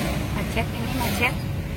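A traffic jam in Pangandaran gives off a low, continuous rumble of idling and crawling vehicles, with a few brief higher noises. Someone talks over the top of the traffic.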